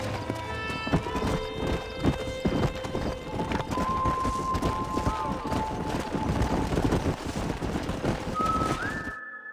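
A horse gallops in Red Dead Redemption with rapid, rhythmic hoofbeats close by, along with a whinny and whistling over a faint game backdrop.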